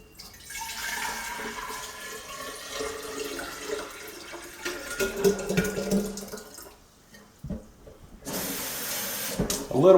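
Tap water runs into a jar used for culturing blackworms and daphnia, a splashing, gurgling stream that rises and falls in intensity, cutting off briefly before starting again.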